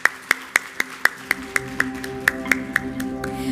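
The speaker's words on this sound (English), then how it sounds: "I think this applause sounds good to me here" A lone person claps slowly and steadily at a ceremony, about a dozen sharp, evenly spaced hand claps close by over a faint room murmur rather than a full audience ovation.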